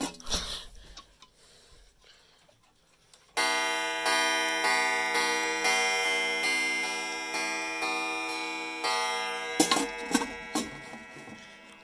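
Chime clocks ticking at close range, a steady run of sharp, regular ticks from several clocks, loud and alone with no talk, after a quieter stretch of faint handling noise at the start.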